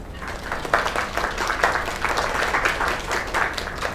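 A theater audience breaks into applause after a young singer's performance, with dense, steady clapping filling the full stretch and small swells throughout.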